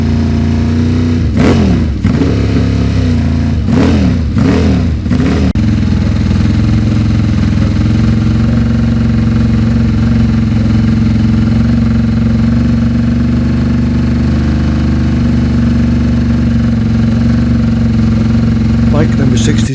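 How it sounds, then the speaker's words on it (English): Classic racing motorcycles, including a 750 Ducati, idle together at a classic TT race on the Isle of Man in a steady loud rumble with a few brief revs early on, while a commentator speaks over the engines. "number 30 Chris Swallow, 750 Ducati, which is a classic lightweight machine in the Mike Harewood replica colours"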